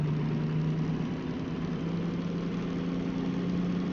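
A DM3 diesel locomotive engine from the Derail Valley train game runs steadily with a low, droning hum and faint vibration, unbroken for a few seconds with no voices over it.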